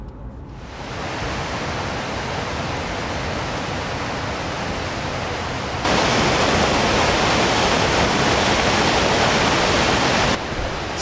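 A Yellowstone waterfall pours in a dense, steady rush of white water, loud and close, growing brighter and stronger partway through before easing back near the end, with no voices.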